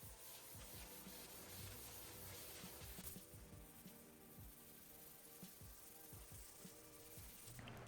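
Steady rhythmic scraping of sandpaper rubbed back and forth over a painted top coat on a mid-century modern wooden dresser, close and continuous with uneven strokes.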